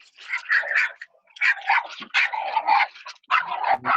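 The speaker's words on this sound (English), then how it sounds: "Someone's got a dog" Small dog barking indoors in a rapid series of sharp, high yaps and yips, close and fairly loud, with brief pauses between bursts and no talking.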